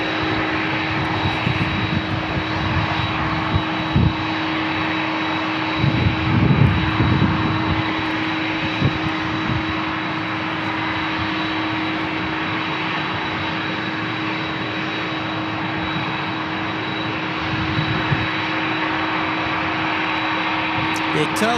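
An Alaska Airlines airliner lands at San Diego International Airport, its engines a steady broadband roar held at a constant level throughout, with a few brief low thumps and bursts of people talking nearby.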